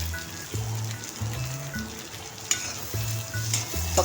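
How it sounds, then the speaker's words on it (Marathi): Sweet corn sizzles in a pan for cheese corn toast as a utensil stirs and tosses it, giving a bright continuous frying hiss broken by close, repeated scraping strokes, with no talk. "आता आपण स्वीट कॉर्न टाकणार आहोत"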